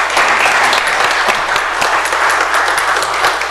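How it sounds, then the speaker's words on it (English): Steady, dense applause from an audience at a Bastrop city council meeting, a continuous clapping crowd filling the room at close range. "Let's give these ladies a round of applause"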